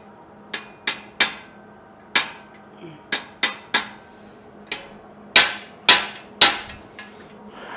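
A bolt is hammered back into place outdoors, a dozen sharp metallic strikes at an irregular pace, close and loud over faint background noise.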